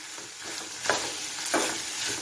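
Chopped chow chow, tomato and shallots sautéing in a pan on low flame, a soft continuous sizzle broken by two brief scraping stirs.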